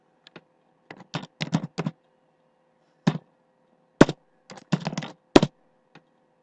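Keystrokes on a computer keyboard as a MySQL command is typed into the Windows command prompt for MySQL Server 5.5, coming in quick bursts of close, crisp clicks separated by short pauses, with no talking.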